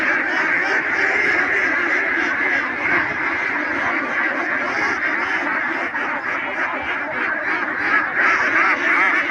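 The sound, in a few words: ducks and geese quacking and honking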